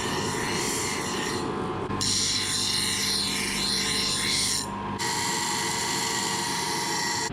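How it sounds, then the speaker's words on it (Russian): A grinding machine sands a Yakut knife blade with a steady high whine and rasp. The tone shifts twice as the blade is pressed and lifted against the belt, and the sound stays close and continuous. "Первый раз я сегодня работал на шлифовальном станке."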